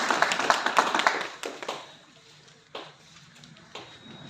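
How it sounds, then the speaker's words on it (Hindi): Scattered audience clapping at a Hindi-language ceremony where a bouquet and memento are presented, with a dense burst of claps at the start that thins out to a few isolated slaps and taps, fairly close and moderately loud, with no talking. "जोरदार तालियां बजती रहनी चाहिए।"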